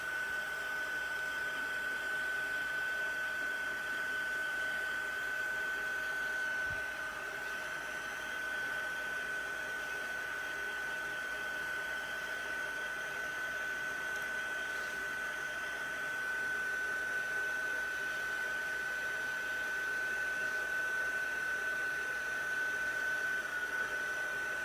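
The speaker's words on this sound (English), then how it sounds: "Get our heat gun out again and set it." Heat gun warming embossing powder during a craft technique, a steady even blowing whir with a constant high whine, running continuously and fairly close throughout with no talking.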